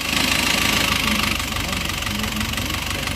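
An Isuzu Trooper engine runs steadily during an oil pressure check, a continuous mid-pitched idle with a knocking, vibrating texture, close and fairly loud throughout.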